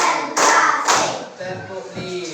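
Group hand clapping in a classroom counting exercise, two strong close claps in quick succession followed by softer trailing taps, with faint voices underneath.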